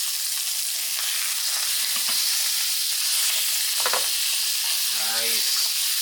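Meat sears in a hot pan with a continuous loud sizzle and crackle, broken by a few brief clinks and scrapes near the end, with no voices.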